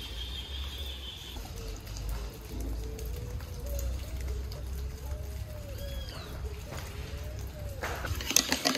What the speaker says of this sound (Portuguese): Gente, 4 meses sem chuva, isso é muita bênção agora.